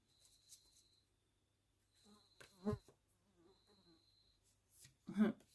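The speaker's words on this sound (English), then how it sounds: "There's a fly buzzing around." A housefly buzzes around indoors in short, faint, thin whines that come and go, with a quiet voice murmuring between the buzzes.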